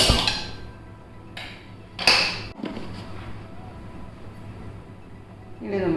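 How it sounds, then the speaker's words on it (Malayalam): A pan set down on a kitchen stove, heard as a couple of sharp metallic knocks and clatters around mid-clip over a low steady background hum. "ഒരു പാൻ അടുപ്പിൽ വെച്ച് തീ കൊടുക്കാം."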